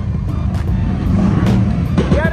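A car at a large Cars & Coffee meet in Texas, its engine rumbling loud and close, rising and revving briefly near the end, while people talk nearby.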